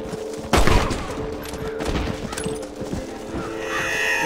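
Gunfire in the Red Dead Redemption video game, a sudden loud shot followed by a rapid, irregular volley of cracks and impacts from several weapons, with faint background game sounds.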